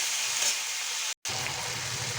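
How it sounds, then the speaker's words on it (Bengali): Ginger-chili paste, salt, turmeric, cumin and chickpeas frying in a pan for a pumpkin chana curry, a steady close hiss and sizzle with a brief silent gap midway. "মশলাটা ভালো করে ভেজে নেব"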